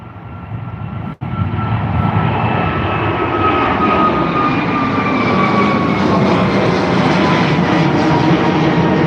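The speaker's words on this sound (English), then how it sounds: "That was the Aer Lingus A321 XLR, registered as EI XLR, heading over to Nashville" An Aer Lingus Airbus A321 XLR jet takes off at Dublin Airport, its engine roar steady and loud throughout with a rising whine, heard alone without talk.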